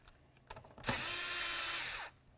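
Power driver or drill loosening the air filter housing clamp on a 2002-2006 Honda CR-V, a loud steady whir lasting about a second, preceded by a few light clicks and handling taps.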